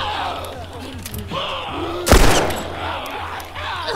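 A single heavy gunshot in The Last of Us, a sharp close crack with a short rumbling tail, over a quiet background of faint muffled sounds.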